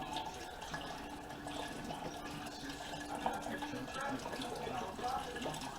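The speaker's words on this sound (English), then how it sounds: "Now we're going to add our store-bought beef broth." Store-bought beef broth poured into a pot for French onion soup, a steady liquid splash and trickle running throughout at moderate level with some background noise.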